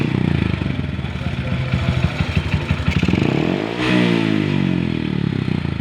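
A motorcycle engine with a faulty voltage regulator is revved up and down as the throttle opens, a loud close mechanical roar with rising and falling pitch and some clatter.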